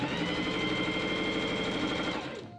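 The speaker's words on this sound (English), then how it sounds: "I machine sew two rows of gathering stitches along the shoulder edge of the sleeve pieces." A sewing machine runs steadily, stitching two rows of gathering stitches along the shoulder edge of linen sleeve pieces for a Regency men's shirt. It whirs continuously and close by, then winds down at the end.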